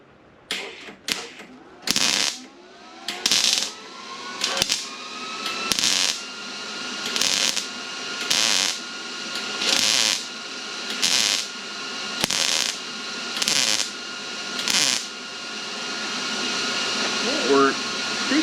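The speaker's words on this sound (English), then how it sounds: "Let's see if we can just weld this up." A 1955 Chevy Nomad front clip panel is welded over a copper backing in a series of about a dozen short, crackling welding bursts at a steady rhythm, with brief pauses between them.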